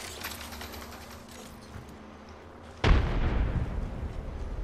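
A grenade detonates in a first-person shooter video game, one sudden loud boom after a stretch of quieter background battle noise, followed by a lingering rumble and debris.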